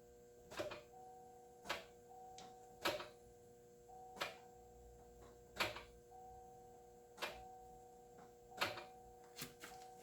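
Sharp mechanical clicks from a 2008 Suburban's newly installed engine as the key is turned, repeating at irregular intervals, about once a second, over a faint steady hum with no voices.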